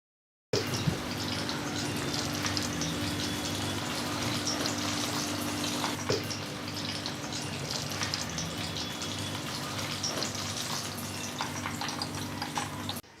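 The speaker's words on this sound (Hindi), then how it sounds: "ये ऑयल में जाने के लिए बिल्कुल तैयार है फ्राई होने के लिए।" Breadcrumb-coated chicken noodle and cheese sticks frying in hot oil: a steady, dense sizzle and bubbling hiss that starts abruptly and holds evenly throughout, close and moderately loud, with no talking.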